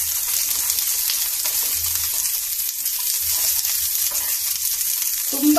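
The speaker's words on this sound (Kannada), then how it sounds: "ಎಣ್ಣೆ ಕಾದಿದೆ ಈಗ ಈರುಳ್ಳಿ ಹಾಕೊಳ್ತೀನಿ ಹಾಗೆ ಹಸಿಮೆಣಸಿನಕಾಯಿ ಕೂಡ ಈಗಲೇ ಹಾಕೊಂಡ್ಬಿಡ್ತೀನಿ ಎಣ್ಣೆಲಿ ಚೆನ್ನಾಗಿ ಫ್ರೈ ಮಾಡ್ಕೊಳ್ಬೇಕು" Onions and green chilies frying in hot oil for a Kannada buttermilk sambar, giving a steady, close, loud sizzle with a crackling hiss that never lets up and no voices.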